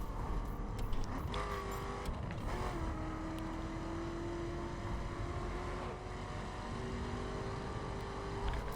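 A car cruises steadily along a road in the open-world driving game The Crew, with a continuous engine drone and a rising pitched whine as it holds speed, faint and unbroken throughout.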